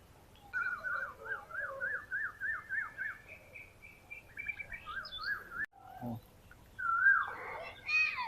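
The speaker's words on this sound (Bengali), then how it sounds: "এখানে এত সুন্দর কোকিল ডাকছে," An Asian koel calls outdoors, a clear, fairly close series of rapid rising-and-falling notes followed by several separate whistled phrases against a quiet background.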